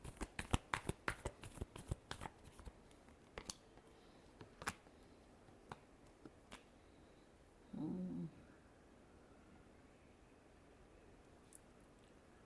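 Tarot cards shuffled by hand, heard as a quick burst of crisp snaps and riffles early on, then sparser isolated flicks spread over a quiet background, with one short low muffled thump midway.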